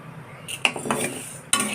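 A utensil scrapes and clinks against a pan as moong dal is stirred and dry-roasted, several quick scraping strokes and a couple of sharp metallic knocks, close and fairly loud with no talking.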